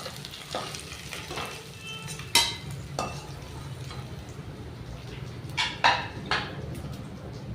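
Rohu fish and brinjal fry in hot oil with a steady sizzle. Clattering stirs and scrapes of a utensil break in now and then, and a voice talks faintly underneath.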